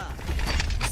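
Weapon reload in the Valorant shooter game: a quick run of mechanical clicks and ratcheting metal clatter over about a second, fairly close and moderately loud.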